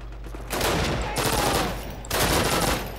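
Two long bursts of automatic gunfire in the World War II shooter Call of Duty, during the Red Square mission, loud and close with a brief pause between them.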